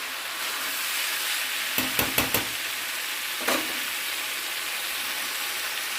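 Cauliflower and minced keema frying in a pan, a steady close sizzle running throughout with a few sharp clacks of the stirring spoon against the pan partway through.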